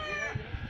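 Chickens at a practice cockfight with small padded boxing gloves on their spurs, a rooster's clucking and crowing sounding over steady background noise across a short stretch.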